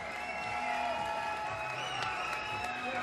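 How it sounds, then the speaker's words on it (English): An arena crowd applauds two super flyweight boxers after a ten-round title fight, giving steady, distant-sounding clapping that continues evenly without a break. "let's have a round of applause for the amazing effort from these two super flyweight warriors"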